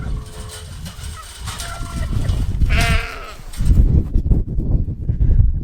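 Goats bleat nearby, one loud wavering cry standing out amid rustling, shuffling and other animal noises.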